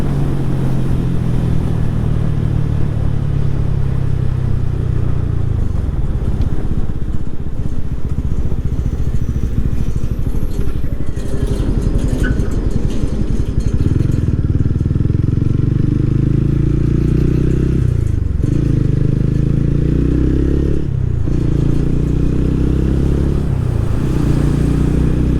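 A TVS Ronin 2024 motorcycle rides at high speed, its engine droning loudly and steadily with heavy wind rush, a few gear-shift dips in pitch, and no talking.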